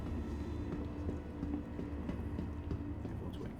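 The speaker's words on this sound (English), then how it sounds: "Train arriving in 1 second." A train pulls into a station in the video game Star Citizen, a steady low rumble with rhythmic clicking and clacking, moderately loud and continuous with no talking.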